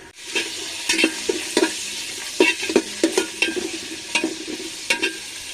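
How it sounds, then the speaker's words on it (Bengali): Onions frying in a pan until reddish for vegetable khichuri, a soft continuous sizzle broken by repeated close scrapes and taps of a stirring spoon, with no voices. "পেঁয়াজটাকে লালচে করে ভেজে নেব।"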